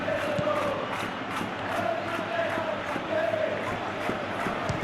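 Steady crowd noise fills a stadium in a PES football video game, a continuous roar of applause and cheering with no breaks, heard at a constant level throughout.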